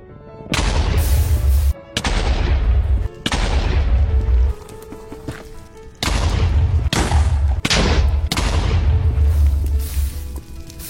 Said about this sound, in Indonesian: aku langsung pergi ke nether lagi, lalu meledakkan kasurnya satu persatu